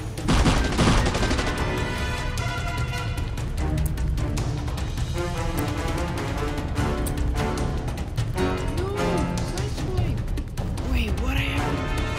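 Rapid bursts of gunfire effects in a Transformers Beast Wars stop-motion scene, a dense barrage of sharp cracks layered over music and voices throughout.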